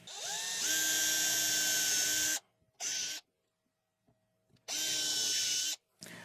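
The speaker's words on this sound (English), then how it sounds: "I'm going to pre-drill those holes there to accommodate for the LED strips." A power drill whines at high speed in several bursts, pre-drilling holes for LED strips: two long runs and two short ones, with brief quiet pauses between.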